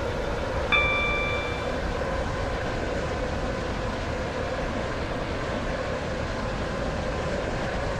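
A train runs in the Roblox game Stepford County Railway, a steady low rolling rumble throughout with a short chime ringing out near the start.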